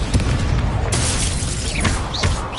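An Incendio fire spell bursts in the Hogwarts Legacy game, a loud dense roaring blast with crackling flame and whooshing streaks filling the whole moment.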